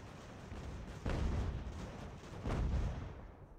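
Artillery fire in Ultimate General: American Revolution, with two heavy booming blasts about a second and a half apart rising over a constant low rumble of battle.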